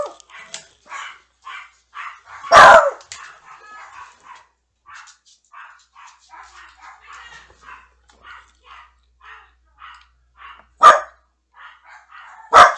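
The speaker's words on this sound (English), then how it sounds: "the dogs were going off because somebody knocked" Several dogs barking in steady, repeated bursts after a knock, each bark sharp and moderately close, with three louder thumps or knocks punctuating the sequence and no talk over it.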